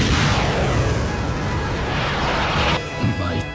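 A plane blows apart after a fighter jet missile strike in an animated story, a loud rumbling explosion with dense crackling debris that roars on for a few seconds, then cuts to quieter fragments.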